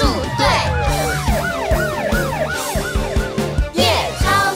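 Ambulance siren in a children's song, a fast rising-and-falling wail repeating about a dozen times over a bouncy musical backing, loud and up front.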